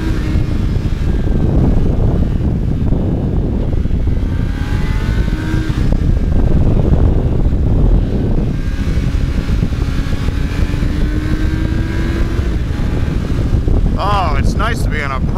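A Gen 1 Yamaha FZ1 motorcycle rides along a road with a steady loud engine drone and buffeting wind, its pitch rising and falling as the rider shifts, and a voice talks over it.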